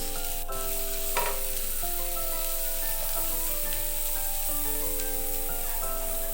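Capsicum and onion sauté in a pan for a keto burger: a steady, close hiss and crackle of frying runs throughout, with a soft melodic tune in the background and no talking.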